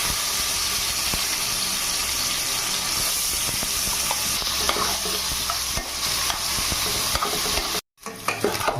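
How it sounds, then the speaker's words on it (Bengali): Shrimp fry in hot oil in a wok with a loud, rushing sizzle and stirring scrapes. Near the end it cuts off abruptly, then resumes briefly. "এবার চিংড়ি মাছটা ভেজে নেব।"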